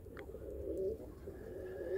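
Pigeons cooing near a rooftop dovecote on a day of first snow, soft low repeated coos at moderate distance over faint background ambience.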